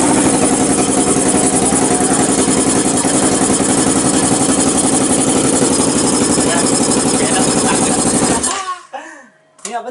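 Custom-built Honda CBR 250 sport motorcycle engine running at a steady, loud idle close by, then cutting off abruptly near the end, leaving a short quiet tail with faint background sounds.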